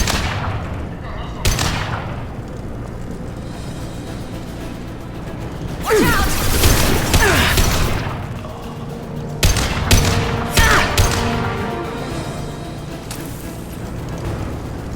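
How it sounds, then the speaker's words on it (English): Gunfire from Blue Suns mercenaries and Vorcha in Mass Effect Legendary Edition, bursts of rapid automatic shots and thumping impacts in several loud clusters, with game dialogue voices and ambient rumble between volleys. "The Blue Suns and Vorcha are shooting anything that moves."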